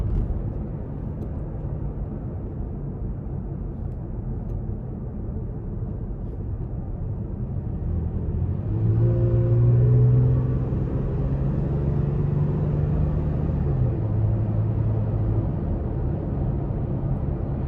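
A 2017 Toyota Tacoma pickup accelerates off road, its engine a low steady rumble from inside the cab that rises in pitch and loudness partway through as throttle is applied.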